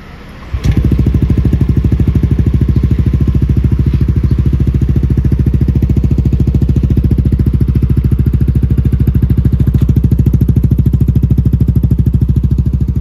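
A Yamaha NMAX Neo scooter fitted with an R-One racing exhaust starts with a sharp catch, then idles steadily up close, a loud, even, rapid low thrum with no revving throughout.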